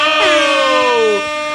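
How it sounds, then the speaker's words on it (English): MLG air horn sound effect, a single loud blaring horn blast with a slightly falling pitch lasting just over a second, then cut off. "the only sound that can possibly do it justice is an MLG air horn"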